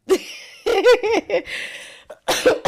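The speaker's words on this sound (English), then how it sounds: "You made me cough." A few short, harsh coughs from a sick woman burst out close by, separated by brief pauses, with a couple of quieter throat sounds in between.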